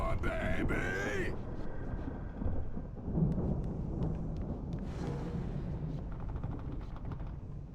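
Thunderstorm in the video game Alan Wake, with deep rumbling thunder rolling steadily beneath game sounds, a sharp crack partway through and a hissing, rain-like wash later on.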